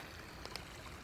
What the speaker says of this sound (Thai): ฟังเสียงน้ำไหลนะคะ